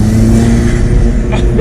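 An Alfa Romeo 4C sports car engine revs up to about 3,500 RPM, producing a loud, close, raw mid-range roar that holds steadily throughout.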